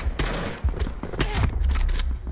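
Rapid shotgun blasts in Call of Duty: Black Ops 4 crack out in a dense, loud burst of overlapping shots and impacts at point-blank range, filling the brief moment with little pause.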